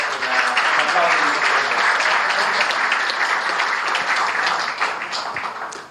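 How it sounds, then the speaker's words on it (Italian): A roomful of people claps in sustained, lively applause that gradually thins slightly toward the end, with some voices mixed underneath. "Farei un applauso a Giove perché ha avuto un'operazione"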